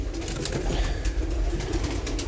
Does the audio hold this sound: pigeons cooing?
yes